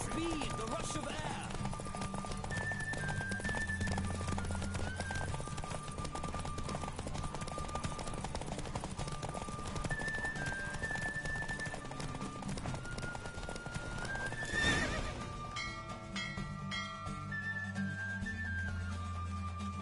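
A horse gallops in The Witcher, its rhythmic clip-clop hoofbeats steady under background music, with characters talking over the ride.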